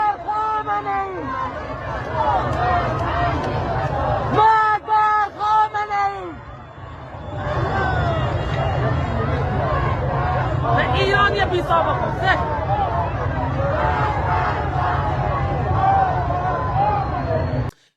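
A huge crowd of protesters fills the streets of Abdanan, Iran, with a dense, continuous roar of voices and shouting. It holds steady throughout, apart from a short drop in the middle, and distinct cries and chants rise out of it.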